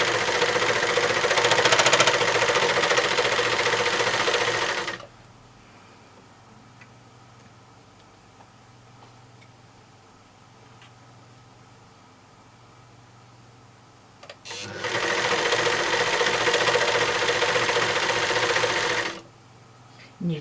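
A serger overlocker stitches stretch fabric in two steady, loud whirring bursts of about five seconds each, separated by a long quiet pause.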